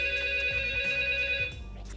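A telephone rings indoors with a bright, electronic trill. It is a single short burst heard clearly on its own, without talk.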